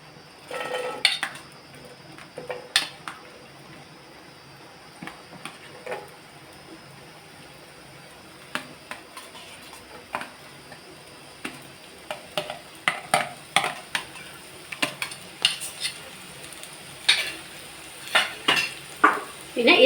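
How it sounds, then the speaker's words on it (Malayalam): Garlic sautéed in a pan for prawn roast gives a low sizzle broken by repeated spatula scrapes and clatters against the pan, sparse at first and then quicker and louder toward the end, with no speech. "ആദ്യം നമ്മൾ വെല്ലുള്ളി വഴറ്റുകയാണേ."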